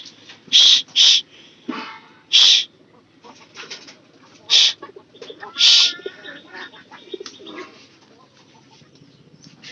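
Pigeons and chickens at feeding, birds calling repeatedly in short loud bursts, with soft cooing and chirps in between over a quiet outdoor background.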